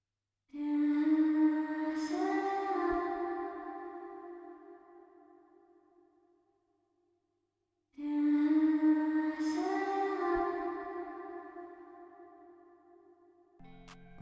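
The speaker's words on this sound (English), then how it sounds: "I duplicated the vocals, reversed them, chopped a section out and added more reverb" Two swelling bursts of a reversed, chopped vocal sample drenched in added reverb, each rising quickly then fading over several seconds, with a short clipped fragment at the end and no speech.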